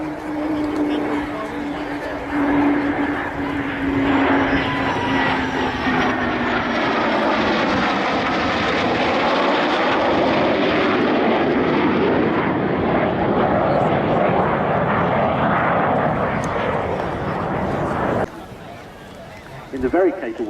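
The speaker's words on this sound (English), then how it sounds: "coming in from the left, the MidAirs Squadron, Canberra and Hunter T7" A Canberra and a Hunter T7 jet fly past together at an air show, a loud sustained jet roar that swells and shifts in pitch as they pass, with a commentator talking over the sound.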